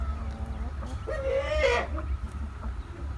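A village chicken clucks and gives a drawn-out squawking call nearby, over a steady low background hum.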